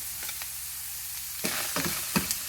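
Sweet peppers sizzle steadily in a hot pan, with a few sharper scrapes and knocks from stirring near the end, close up and without any talking.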